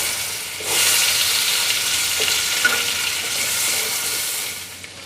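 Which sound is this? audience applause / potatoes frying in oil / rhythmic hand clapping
potatoes frying in oil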